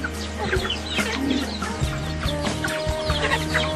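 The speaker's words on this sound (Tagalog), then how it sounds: "Sina lolo at lola din ay merong alagang manok" Chickens cluck steadily in a noisy outdoor setting, several birds overlapping with short repeated calls, moderately loud.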